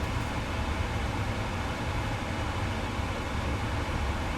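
Steady broadband rumble of turbulence inside a PMDG 777-300ER cockpit in a flight simulator game, a dense, unchanging roar with no talk over it.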